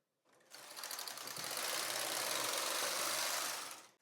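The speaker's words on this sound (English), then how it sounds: "Now I'm going to knit my first zigzag row from right to left." Brother 260 knitting machine carriage sliding across the needle beds for a zigzag row, a steady close whirring clatter that swells in, holds evenly for about three seconds, then fades.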